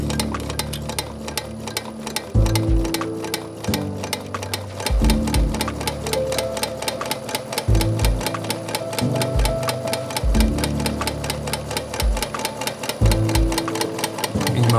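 Vintage sewing machine stitching denim jeans at a tailor's workshop, a fast steady mechanical clatter with repeated heavier thumps every second or so, close and continuous throughout.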